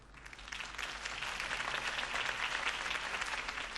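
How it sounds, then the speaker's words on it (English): Crowd applause at a campaign rally in a Batman video game, a broad steady wash of many hands clapping at some distance, building slightly and sustained throughout. "If only Mr. Wayne, my campaign's largest backer, could have heard that applause"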